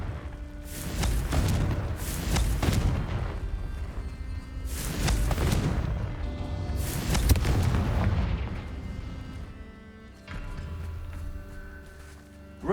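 Confringo fire spell blasts in Hogwarts Legacy, a series of loud booming explosions with crackling bursts, several heavy impacts spaced a couple of seconds apart, then a softer rumbling tail.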